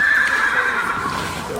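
A horse brought to a historic park gives a single loud, close neigh, a wavering high whinny held for over a second with no talk over it.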